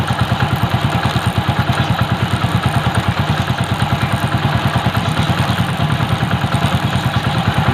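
Motorcycle engine running steadily in gear with an engine-flush treatment inside, a close, loud, even rapid thumping beat with light mechanical clatter throughout, no talking.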